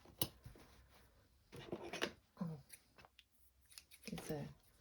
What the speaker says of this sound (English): these are very big scissors, not quite right, but let's just trim this for a minute